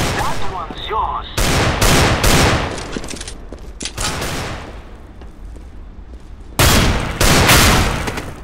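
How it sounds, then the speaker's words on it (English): Shotgun blasts in Counter-Strike: Global Offensive, a handful of loud, sharp booms in quick clusters with a short gap between bursts, close and punchy, with a voice talking at the start. "Whoa, nice shotgun."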